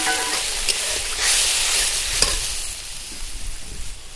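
A bowl of water is poured into a pan of black mustard paste curry, a hissing, bubbling sizzle that swells into a rushing splash before settling back to a softer simmer, with a couple of light clinks of utensils.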